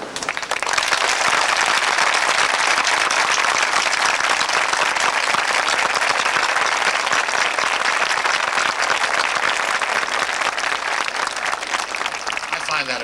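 Sustained, dense applause from a graduation audience at Nyack High School's 1992 ceremony in Nyack, New York, steady and loud throughout with a crowd murmur underneath.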